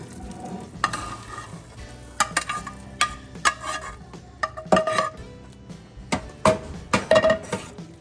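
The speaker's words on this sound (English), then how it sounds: "Now we're going to pour all our veggies in the roux." Chopped vegetables are poured into a pot of roux for gumbo and stirred, bringing sizzling and frying under repeated scrapes and knocks of a spoon against the pot, close and uneven.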